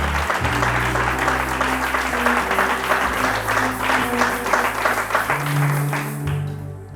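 A church congregation applauds loudly and continuously to acclaim the Lord, dense clapping with crowd voices and low musical tones underneath, fading slightly at the end.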